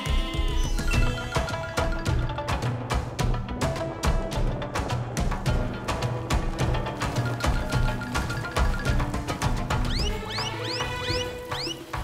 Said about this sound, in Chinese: 抓羊喽！